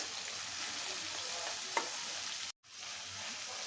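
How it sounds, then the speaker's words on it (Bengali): Prawns frying in hot oil in a pan give a steady, dense sizzle that holds throughout, with one brief sharp spatter and a momentary dropout near the end; no voices. "চিংড়ি মাছগুলো একটু ভাজা নিলে তেলে চিংড়ি মাছের একটা ভাপানো গন্ধ আছে,"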